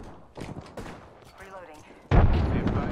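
Gunfire in a first-person shooter video game, a few scattered shots and then a loud, sustained burst of heavy fire, with a voice talking over the earlier part.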